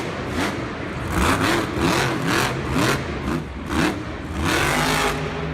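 Mohawk Warrior monster truck engine roaring and revving hard in a Monster Jam arena, loud pulsing surges of engine noise over a constant crowd and arena din.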